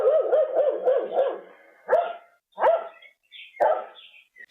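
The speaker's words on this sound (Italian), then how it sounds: "prima però spruzzano dello spray addosso al cane Rico, cercando così di stordirlo." Dog barking during a burglary at a house, a rapid run of close barks followed by three separate sharp barks with short pauses between them.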